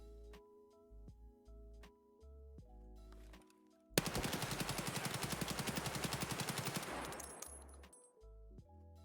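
A rifle firing 5.45x39 rounds in Escape from Tarkov lets off one sustained fully automatic burst of about four seconds, with rapid, evenly spaced shots that fade out at the end. Quiet background music plays before and after.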